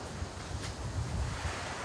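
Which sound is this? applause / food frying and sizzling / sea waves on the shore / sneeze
sea waves on the shore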